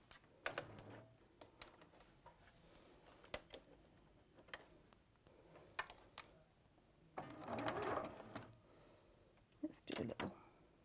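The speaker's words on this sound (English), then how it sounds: "I'm going to start stitching at the dot and go all the way to the end" A sewing machine runs in short bursts as patchwork is stitched from a pinned dot to the end, with a longer whirring run near the end, under a speaking voice and scattered clicks.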